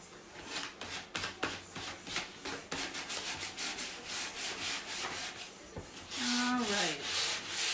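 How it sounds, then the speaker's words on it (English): Sandpaper rubbed back and forth over a painted wooden surface during a furniture transfer project, steady scratchy strokes repeating close up for several seconds, ending in a brief higher squeaky scrape. "it doesn't need too much of a sanding to get that nice smooth effect"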